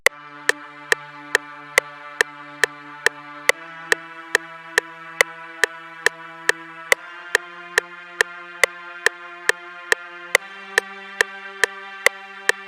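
A simple sustained string melody from a beat made in FL Studio, its held notes shifting pitch slowly beneath a crisp, evenly spaced ticking click that runs throughout.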